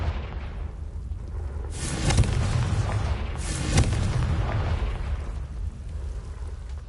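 Two booming blasts from the Confringo fire spell in Hogwarts Legacy on PS5, each a deep rumbling explosion seconds apart, followed by a lingering low roar.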